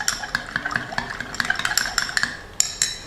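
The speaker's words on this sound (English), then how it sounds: "Stir to somewhat dissolve the brown sugar." A spoon stirs espresso with brown sugar in a glass, bright rapid clinks and taps against the sides in a quick irregular rhythm, close and alone over a faint low hum.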